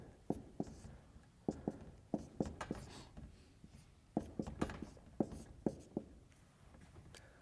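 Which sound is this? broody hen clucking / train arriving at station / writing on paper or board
writing on paper or board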